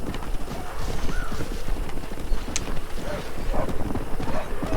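Hoofbeats of a black war horse approaching in the Red Dead Redemption game, a steady clip-clop rhythm drawing nearer over a dense, noisy background, with a brief whinny-like tone.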